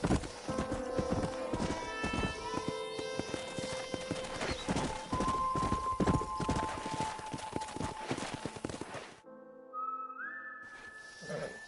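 Horse hooves clip-clop steadily in the Red Dead Redemption video game on PS5 Pro, loud and close, with a whistle and a horse's neigh amid music, ending in a brief quieter stretch.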